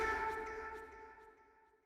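A tonal sound rings out and slowly fades away in a long reverberant tail, the echoing decay lingering until it nearly vanishes.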